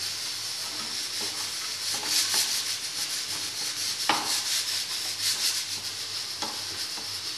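Onions sautéing in a pan while being stirred, a continuous soft sizzle with scraping and rubbing strokes of the spoon, close up, with a sharper scrape partway through and no talking.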